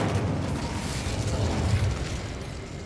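A fiery Incendio spell bursts in Hogwarts Legacy, a steady rushing roar with a deep low rumble that holds close and loud for about three seconds.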